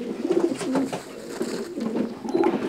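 A racing pigeon coos close by, repeating soft, throaty rolling calls at a steady rhythm over faint room noise.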